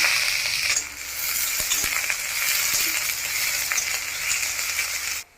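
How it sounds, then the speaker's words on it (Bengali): Onions frying in mustard oil with dried chilli and nigella seeds in a kadai, a bright continuous sizzle close by, with a few soft stirring taps and a brief dip early on. "পেঁয়াজটা ভাজা হয়ে গেছে"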